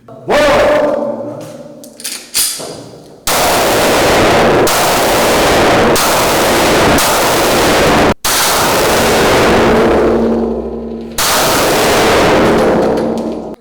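Loud, close gunfire at a national police shooting range during firearms training, with a few scattered shots and then long sustained volleys of rapid fire with brief gaps between them.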